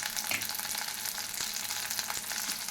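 Sliced onions frying for boti fry, a dense, even sizzle that holds steady throughout with faint occasional scrapes, close and without voices.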